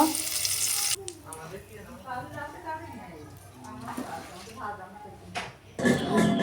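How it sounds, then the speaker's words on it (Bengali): Curry leaves frying in a pan for homemade dal chanachur give a bright, loud sizzle that bursts at the start and flares again at the end, with a person talking over quieter stirring in between. "কারি পাতা ভেজে নেব"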